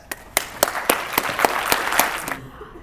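An audience at the NEDCamp 2023 conference breaks into steady, fairly loud clapping to welcome keynote speaker Whitney Hess, with sharp distinct claps building into brief applause that stops abruptly.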